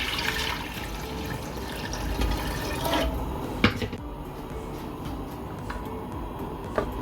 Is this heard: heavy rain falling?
no